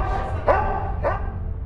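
A K9 detection dog gives two sharp, close barks about half a second apart over a steady low background rumble.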